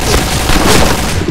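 A grenade explodes in a video game as a single loud, close, rumbling boom that fills the brief moment.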